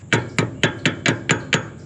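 Seven evenly spaced metallic taps of a hammer, quick and sharp, ringing briefly with each strike, close by and alone.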